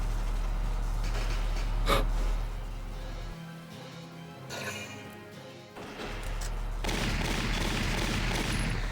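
Gunfire in the World War-style tactics game Valkyria Chronicles: scattered shots and crashes over a steady game background, with a loud burst near the two-second mark and denser noise returning toward the end.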